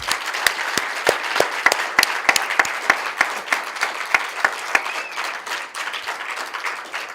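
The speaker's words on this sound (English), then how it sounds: "give a good round of applause to Professor Mabunda for launching the new center at WSU." An audience at the launch of the WSU Global Centre for Human Resources for Health Intelligence gives a round of applause, sharp individual claps standing out over a steady bed of clapping that continues for several seconds, with no talk.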